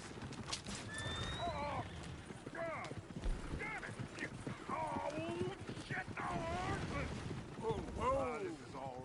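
Horse hooves clop and a horse whinnies in Red Dead Redemption 2, under steady in-game voices and ambient background, with squeals and neighs scattered through.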